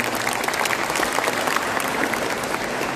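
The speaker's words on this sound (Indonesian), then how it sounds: "Bapak Ibu sekalian, tepuk tangannya." Audience at an opening ceremony for an education event in West Lombok claps in a steady, dense round of applause, loud and even throughout.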